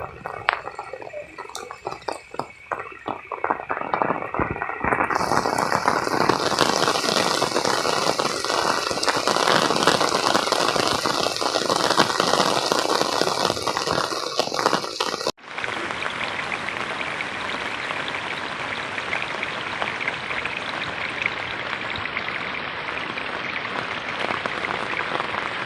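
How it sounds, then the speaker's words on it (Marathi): Heavy monsoon rain falls in the Konkan countryside near rice fields, a dense, steady hiss that fills the whole clip, briefly changing character partway through and then continuing loud and unbroken with no voices. "हा बघा पाऊस बघा किती झाकला इथे."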